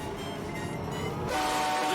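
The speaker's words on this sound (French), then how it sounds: "tu n'avais aucune raison d'utiliser le klaxon" Horn blasts from a kart in Mario Kart World, a sustained tonal honk that swells loud in the second half over steady racing game noise, with no one talking.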